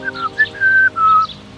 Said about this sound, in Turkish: aniden o adamın garip bir ıslık çaldığını görmüş